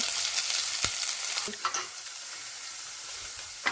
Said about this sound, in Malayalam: സവാള അരിഞ്ഞത് ചേർത്ത് കൊടുത്തിട്ടുണ്ട്.